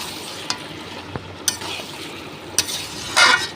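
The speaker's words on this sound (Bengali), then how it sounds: "আমি ওর মধ্যে মাংসটা দিয়ে দেব দিয়ে নাড়িয়ে চাড়িয়ে নেব" Meat stirring in hot oil in a pan, a steady low sizzle broken by several sharp scrapes and clinks of the spoon, with a louder scraping burst near the end.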